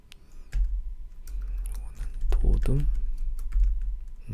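Computer keyboard keys being typed while working on a desktop computer, a run of quick irregular clicks close to the microphone, with a low hum and a brief murmur in the middle.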